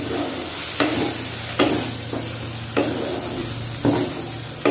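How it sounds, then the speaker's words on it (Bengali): Paneer with sugar, salt and ground spices is stirred in a pan, its spoon scraping in regular sweeps about once a second over a low, constant background hum. "এবার এটাকে ভালো করে মিশিয়ে নিচ্ছি।"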